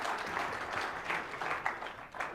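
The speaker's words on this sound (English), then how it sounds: "Do I get a little bit of a round of applause for that one?" Brief, fairly faint audience applause at a tech conference, a soft scattered patter of clapping from a hall that swells and thins over a couple of seconds without any talking.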